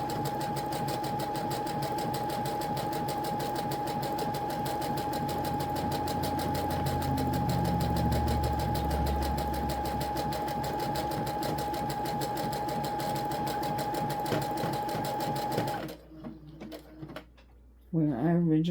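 A sewing machine stitches back over an existing seam while repairing crop pants, running in one steady, close whir for about sixteen seconds before stopping, then a few quiet handling sounds.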